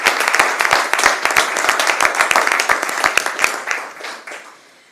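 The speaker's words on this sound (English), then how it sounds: "I'm going to stop and give you a round of applause for that." A crowd in city council chambers applauds with dense, continuous clapping that gradually tapers off toward the end.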